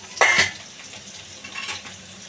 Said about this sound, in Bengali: নাড়িয়ে দেখব